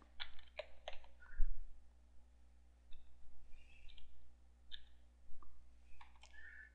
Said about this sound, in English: And type it again.